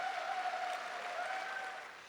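An audience applauding at a fashion event in Africa, steady dense clapping that holds evenly for a couple of seconds before starting to fade.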